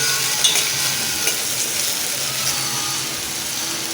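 Ghee sizzles steadily in a pan for tempering a Karnataka-style amaranth-leaf dal, a dense continuous frying hiss with occasional small pops, close and fairly loud with no talking.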